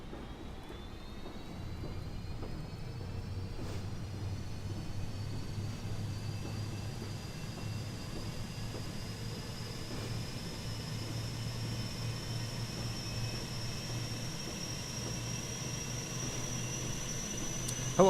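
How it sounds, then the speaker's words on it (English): An Airbus auxiliary power unit spools up in a flight simulator, a steady hollow whine slowly rising in pitch over a low constant rumble, heard from nearby outside the aircraft while it sits parked. "we can spool up the APU while we're sitting here"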